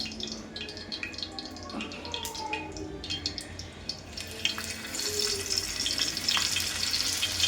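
Pomfret fish frying in a pan, giving a close crackling sizzle mixed with splashing, running-water-like kitchen noise that grows busier and brighter toward the end.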